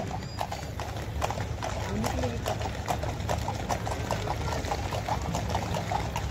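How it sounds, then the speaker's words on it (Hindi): Horses of a ceremonial regiment clip-clop on a paved parade route beside the President's carriage at a Republic Day rehearsal, with many overlapping hoofbeats in a steady trotting rhythm, moderately distant, and a faint whinny and crowd bustle beneath. "माननीय राष्ट्रपति जी की बग्घी के दाहिनी ओर रेजिमेंट के कमांडेंट कर्नल अमित बेरवाल अपने घोड़े ग्लोरियस पर"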